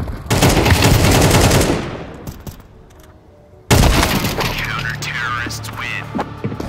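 Rapid automatic gunfire in Counter-Strike 2 on the Inferno map, a loud dense burst lasting about two seconds, then a pause and a second sharp volley with further shots, with game sounds and some speech mixed in.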